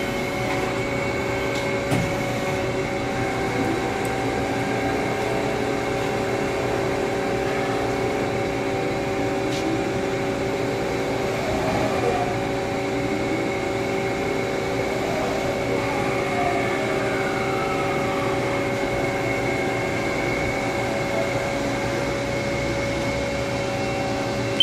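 A Haas ST-40 CNC live tool turning center runs a program, giving a steady mechanical hum with sustained tonal whines and slow rising and falling spindle and axis sweeps, continuous and fairly close, with no one talking.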